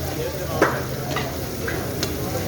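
Ghee sizzles steadily in a pan over a fire turned up too high, starting to burn. A constant hiss carries a few soft stirring clicks.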